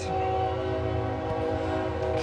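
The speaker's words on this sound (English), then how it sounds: "Of course, the train." A passing train sounds a long, loud, sustained horn with a rumbling undertone from the rolling cars, steady from start to finish and close by.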